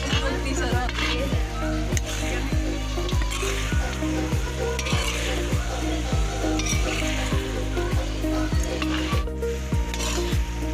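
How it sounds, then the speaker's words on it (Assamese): Duck meat and pumpkin cook in a large wok for a Magh Bihu night feast, giving a steady close sizzle with regular, rhythmic scraping stirs of a utensil against the metal, and voices faintly audible beneath. "আজি কোমোৰা দি হাঁহৰ মাংস আমি বনাইছোঁ খাবৰ কাৰণে"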